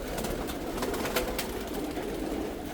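Homing and meat pigeons at a large breeding loft coo softly in the background, with scattered faint clicks and rustles over a low steady hum.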